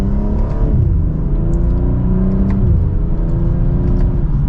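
A BMW M240i pulls hard from second gear on an open road, its engine note rising steadily as it accelerates, loud and close from inside the cabin with road rumble beneath.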